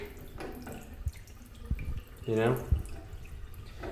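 Water runs and drips from one tap of a separate hot-and-cold dual tap setup at a sink in England, a faint trickle beneath a voice speaking nearby.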